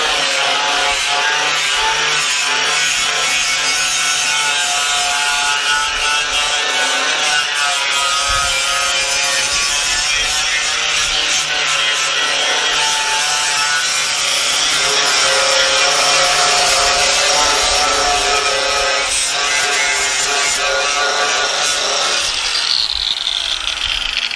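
A Hercules 4.5-inch angle grinder scuffs a steel body panel on a 1955 Triumph TR2, a loud, continuous abrasive whine and rasp that runs steadily throughout with slight shifts in pitch as pressure changes.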